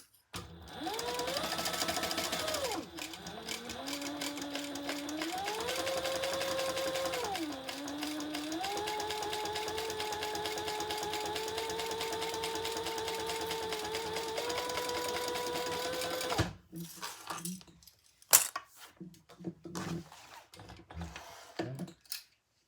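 A sewing machine top stitches a crossbody bag in steady runs that rise and fall in speed, stopping briefly around three and seven seconds, then cutting off near sixteen seconds before a few scattered handling clicks.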